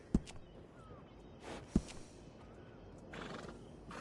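A horse in the video game Red Dead Redemption 2 whinnies amid a few sharp hoof knocks and clip-clops, moderately loud, with brief pauses between sounds.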